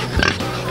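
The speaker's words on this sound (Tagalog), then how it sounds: "So ngayon ay papakainin natin yung baboy natin ngayon." Pigs at feeding time let out a short, close snorting grunt, one brief rough burst over low background noise.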